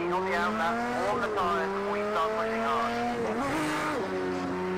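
Vintage race car in Project CARS 2 at Le Mans, engine note with harmonics sliding and flaring as the clutch slips, revs jumping briefly before settling, with loud continuous drone and a voice talking over it.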